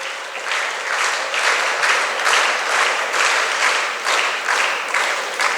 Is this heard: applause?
yes